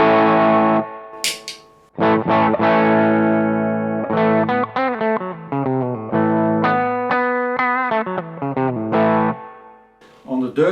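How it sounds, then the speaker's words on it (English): Heavily distorted electric guitar notes and chords through a NUX Boostcore pedal, played close and loud, with pauses and bent notes between phrases. "that's why it's starting to make the distortion sound."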